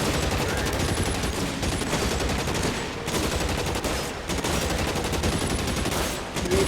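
Continuous gunfire and combat noise from the video game L.A. Noire, with dense bursts filling the whole stretch at steady loudness and no talk over it.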